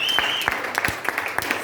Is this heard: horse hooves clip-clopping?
no